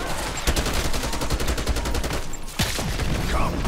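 Rapid automatic gunfire in Black Ops 6 Zombies on the Liberty Falls map, loud close bursts of fast shots with a sharp blast midway.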